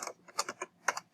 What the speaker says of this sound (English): we're going to type